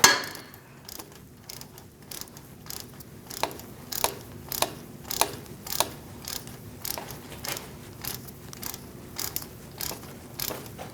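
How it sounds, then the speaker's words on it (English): A ratchet with a 10mm socket turns out a wheel speed sensor bolt on a 2002-2006 Toyota Camry knuckle, giving a steady run of sharp, close clicks in a regular rhythm with no talk. "Using a 10mm socket, we're going to remove this bolt for our sensor."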